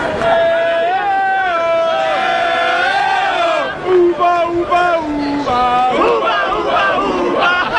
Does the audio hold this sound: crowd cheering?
yes